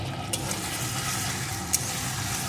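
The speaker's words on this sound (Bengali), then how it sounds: "এখন এই মশলাটা একটু কষিয়ে নেব" Spice masala with turmeric, salt and a little sugar is sautéed in a pan for a vegetarian paneer dish, giving a constant moderate sizzle with a couple of faint clicks and no speech.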